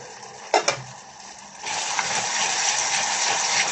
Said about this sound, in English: You close the lid and allow it to fry itself.